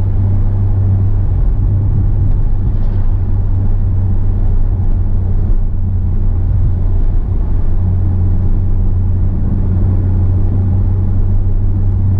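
A 2017 Porsche 911 Turbo S cruising on the road, heard from inside the cabin as a steady low engine and road rumble that stays even and loud throughout, with no talk.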